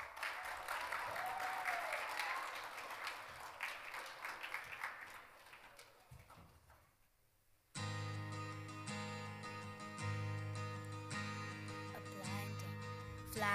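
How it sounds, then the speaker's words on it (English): An audience at a conference inaugural session applauds for about seven seconds, the clapping fading away before music abruptly begins. "Asya, a big round of applause"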